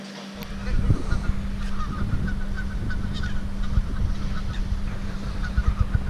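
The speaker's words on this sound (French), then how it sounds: "par contre il y a des canards" Ducks honk and quack continuously against rustling outdoor noise, several birds calling at once, fairly close and steady throughout.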